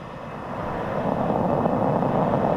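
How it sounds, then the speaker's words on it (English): A SpaceX rocket roars at ignition and liftoff, a broad, steady rumble that swells slightly and holds loud throughout. "And liftoff. Go SpaceX, go Tracers."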